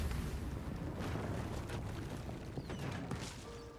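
Fire wine barrels bursting into flame after being shot in the video game Baldur's Gate 3: a dense, rumbling run of explosive blasts and crackling bursts, loud and continuous throughout with no talking.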